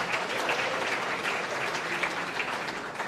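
An audience at a senior athletic awards dinner applauds the coaches, a steady, dense clapping from a roomful of people that holds evenly throughout, moderately loud and slightly distant.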